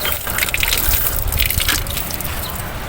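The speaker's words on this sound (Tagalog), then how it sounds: "Lagyan natin sila ng tubig." Water gushes and splashes as it is poured into several discarded bottles and containers, a continuous splashing fill heard up close for a few seconds.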